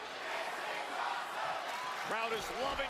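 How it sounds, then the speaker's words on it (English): WWE SmackDown wrestling match crowd roaring and cheering in a steady, dense wash of noise, with a single voice rising above it near the end. "Crowd is loving it."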